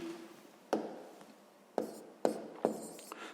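Numbers are written by hand during a sixth-grade maths exercise, with a soft scratch of pen on paper broken by four sharp taps as strokes land, close and quiet, with no talk.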